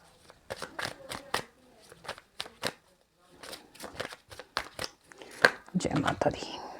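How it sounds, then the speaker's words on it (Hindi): Tarot cards being drawn and shuffled by hand, a series of close, crisp papery flicks and riffles in short bursts with pauses between, ending in a denser flurry of card handling. "मैं और कार्ड्स भी निकाल लेती हूँ।"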